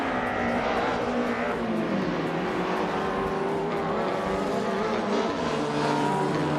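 Race car engines roar in a video game race as several cars run nose-to-tail. The sound is a loud, continuous layered whine with shifting pitch as cars pass and jostle, and no voices.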